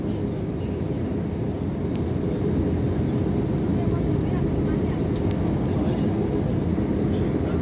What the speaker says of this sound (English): there's some severe turbulence shaking the aircraft